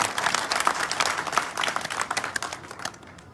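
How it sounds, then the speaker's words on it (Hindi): Crowd applause at a political election rally in Gwalior, a dense steady patter of many hands at moderate loudness that thins out toward the end. "जोरदार तालियों के साथ अपना आशीर्वाद दीजिए"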